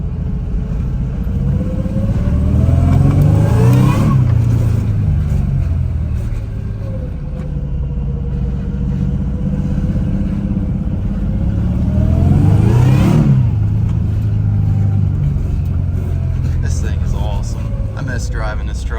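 Supercharged Toyota Tacoma truck engine revving while driving, two loud rising pulls with a gear shift between them over a steady engine drone, with a voice talking partly over it.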